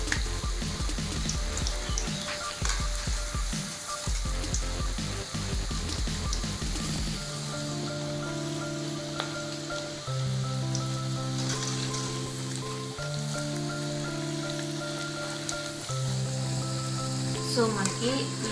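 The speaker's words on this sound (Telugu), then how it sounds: "మీడియం ఫ్లేమ్లో పెట్టుకొని డీప్ ఫ్రై చేసుకున్నామండి" Onion pakoda deep-frying in oil over a medium flame gives a steady broadband sizzle, loudest in the first seven seconds, then continuing more faintly beneath a sustained tonal background.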